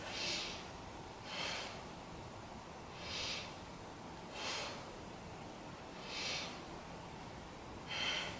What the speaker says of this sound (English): Let's take 3 breaths.